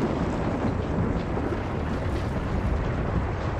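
A deep, continuous rumble like a staged earthquake or thunder effect in a church stage play, loud and steady for a few seconds with no voices over it.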